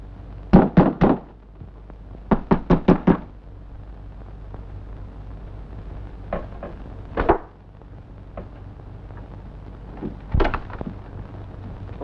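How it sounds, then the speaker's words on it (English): Someone hammers on a door, trying to break it down in a 1930s mystery film: loud, close bursts of three or four rapid heavy blows, repeated in clusters with pauses between, and no talking over them. "If you don't open this door, I'll break it down."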